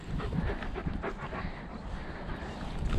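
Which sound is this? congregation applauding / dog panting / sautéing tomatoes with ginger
dog panting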